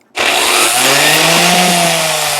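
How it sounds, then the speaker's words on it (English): A power sander whirs on abruptly and keeps running steadily, loud and close, with a dense buzzing hum and a slight dip in pitch partway through. "this is my electric sander. Watch this."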